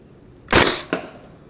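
A single shot from a KWA Elite Force 416A4 gas blowback airsoft rifle: a sharp, close pop and hiss followed by a quick second mechanical clack, then quiet.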